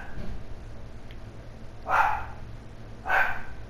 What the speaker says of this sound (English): The dog never stops barking.